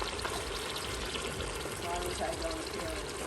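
Italian pasta sauce poured into an Instant Pot, a steady rushing pour that holds for a few seconds at close range.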